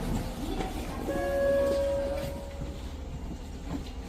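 A subway train rumbles steadily throughout. A long tonal whine or horn-like squeal rises partway through over the low rolling noise of the cars.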